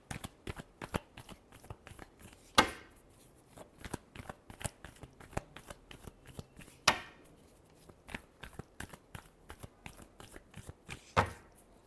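Tarot cards shuffled by hand in quick, steady riffling bursts, with three louder sharp snaps where the deck is tapped or bridged, close and crisp with no voices.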